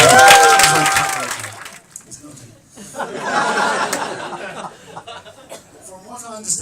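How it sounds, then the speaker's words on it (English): Wedding guests at a reception break into applause and chuckling after toasts, a burst of clapping and laughter that fades, then rises again with crowd chatter and a speaker's voice. "Big round of applause,"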